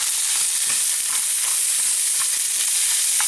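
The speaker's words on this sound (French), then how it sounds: "je vais incorporer les oignons pour qu'ils cuisent dans cette huile" Onions fry in fat rendered from canned corned beef, a steady bright hiss and sizzle filling the pan, with faint crackles and no talking.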